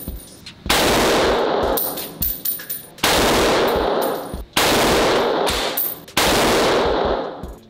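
Firearm gunfire at an indoor shooting range, four loud, sharp shots spaced about one and a half seconds apart, each followed by a ringing decay and metallic clinks.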